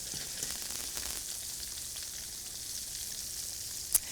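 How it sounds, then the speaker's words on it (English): Nashville hot shrimp frying in a pan: a quiet, steady sizzle of hot oil with faint pops, heard on its own. "let this finish frying about maybe another couple of minutes"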